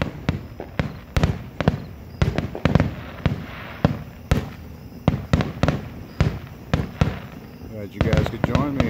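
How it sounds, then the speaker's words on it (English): Fireworks grand finale at a Labor Day neighborhood show in Speedway, Indiana, a rapid run of sharp booms and crackling bursts one after another, loud and echoing, with voices faintly underneath. "we're gonna light off fireworks too"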